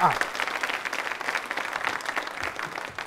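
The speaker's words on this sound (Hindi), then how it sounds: "एक बार तालियां बजाइए आपके लिए जोरदार तरीके से।" Steady, moderately faint audience applause from a crowd at a hospital quiz show event, a continuous wash of clapping lasting a few seconds without speech over it.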